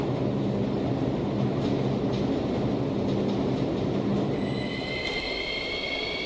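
A Minecraft minecart rolls steadily along rail track in a video game, with a continuous rumbling clickety-clack and wheel noise. Near the end a high, thin metallic squeal joins in.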